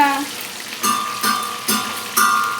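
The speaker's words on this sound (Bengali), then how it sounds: "আমার গ্যাসের জোর একদম ধীরে ধীরে রয়েছে, কম আওয়াজে ফ্রাই করতে হবে, ফ্রাইটা অনেক ভালো হবে।" Chicken fries in oil over a low gas flame, a soft, close sizzle punctuated by four evenly spaced louder bursts, as if stirred or turned in rhythm.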